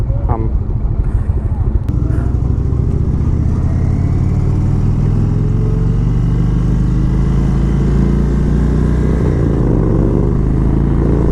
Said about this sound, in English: these American bikes, big, loud engines.